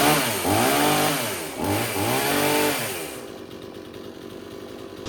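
Bargain gas chainsaw bought for firewood season, revving high then throttling back down to a steady, lower idle, loud and close with no talking.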